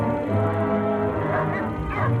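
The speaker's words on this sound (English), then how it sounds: "That's a lot of dogs." Several dogs bark and yip in quick succession in a horror film, close and fairly loud, with a whimpering tone rising near the end.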